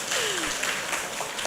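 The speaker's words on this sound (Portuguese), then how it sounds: "uma salva de palmas para eles" An audience at an inclusion workshop applauds in a brief, dense burst of clapping, with a faint voice over it.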